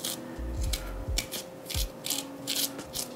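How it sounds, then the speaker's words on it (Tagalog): A spoon scrapes seeds from jalapeño peppers in a kitchen, with repeated close rubbing and scratching strokes and a few soft knocks, no talking. "Kakayurin nyo ng kutsara."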